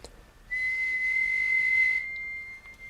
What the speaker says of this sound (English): After 2 rings, modem answers. We can initialize the carrier tone.